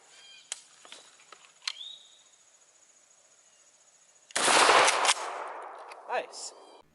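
A Kel-Tec KSG 12-gauge shotgun fires a single 00 buckshot load through a .715 choke at seven yards, a loud sharp blast that rings out and decays, preceded by faint scattered clicks and handling noises.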